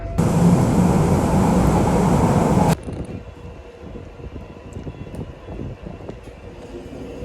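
A Newcastle metro train roars loudly and steadily for a few seconds, then cuts to a quieter rumbling background of the ride near Callerton Parkway.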